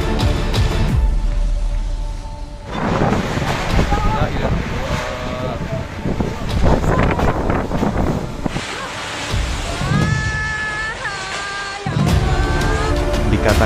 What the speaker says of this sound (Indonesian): detik-detik sebuah atap rumah yang berhamburan terbang terbawa angin puting beliung ini